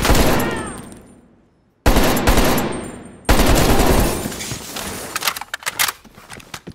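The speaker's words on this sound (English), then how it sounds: "Take out that heavy MG." Heavy machine gun fire in the Call of Duty Black Ops Cold War campaign, loud bursts of rapid automatic shots with a pause between, then sustained gunfire and scattered impacts toward the end.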